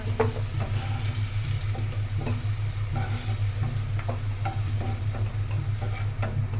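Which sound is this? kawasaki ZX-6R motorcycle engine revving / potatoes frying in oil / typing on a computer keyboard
potatoes frying in oil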